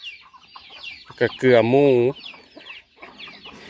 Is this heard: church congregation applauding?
no